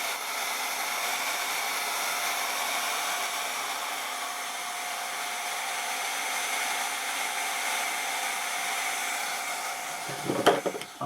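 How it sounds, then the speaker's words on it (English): A hair dryer runs steadily at close range to heat a thin decal on a vintage TOMY toy. Its even, whooshing whine holds for about ten seconds before a few handling knocks. "maybe a hairdryer will work here"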